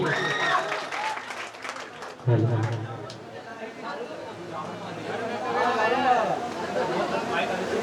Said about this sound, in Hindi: यदि अच्छा लग रहा है थोड़ा एक बार ताली बजा के चुप हो जाइए।